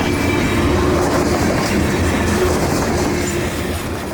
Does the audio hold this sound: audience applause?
no